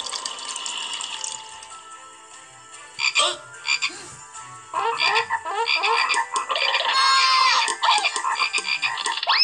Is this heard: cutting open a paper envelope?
no